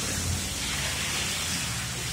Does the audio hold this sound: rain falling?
yes